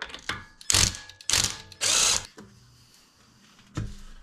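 Ratchet spinning on the wheel bolts of a BMW F90 M5 during a rear brake pad job: several short bursts of rapid clicking, close and fairly loud, with quiet pauses between them.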